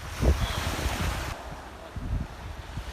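Ocean waves wash over Aljakji pebble beach on Jeju, with wind noise on the microphone and a louder surge early on, then a quieter lapping roll that swells again near the end.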